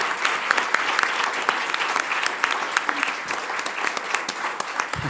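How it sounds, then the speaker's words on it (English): An audience at a panel discussion applauds the panellists, a close and steady wash of many hands clapping throughout. "can we give a round of applause for our panellists?"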